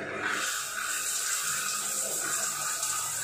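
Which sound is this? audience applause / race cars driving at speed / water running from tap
water running from tap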